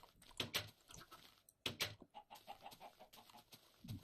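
Chickens in the video game Minecraft cluck in short, clipped bursts with brief pauses between them, fairly close and with no talking over them.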